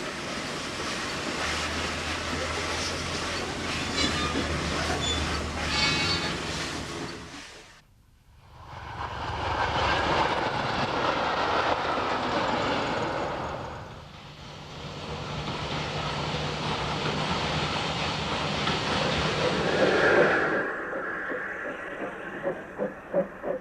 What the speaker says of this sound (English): Here's Fenchurch shunting at Robertsbridge.